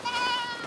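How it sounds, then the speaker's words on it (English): Goats in rural Bangladesh give a single close, sustained bleat lasting under a second, loud and alone with no voices. "Anna and Stephanie have made friends with 2 goats."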